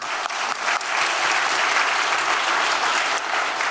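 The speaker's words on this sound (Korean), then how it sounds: "우리 하나님께 영광의 박수 올리겠습니다." A church congregation applauds together during a Korean worship service, a thick, steady wall of clapping that swells after a brief start and holds loud and even to the end.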